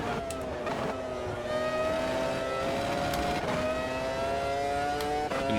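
A race car engine in a racing video game holds near full throttle through a long sweeping right-hander, a loud, steady high-pitched drone with rising harmonics, briefly dipping and climbing again with gear changes.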